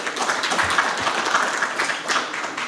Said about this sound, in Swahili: makofi kwao tafadhali